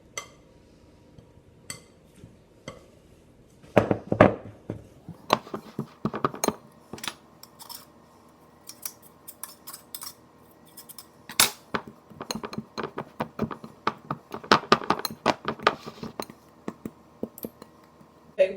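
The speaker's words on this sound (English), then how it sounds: "You can also use 2 knives to cut in the butter." Two knives cut cold butter into flour for no-yeast cinnamon rolls, making scattered light metallic clicks and scraping taps in irregular bursts, close and fairly faint.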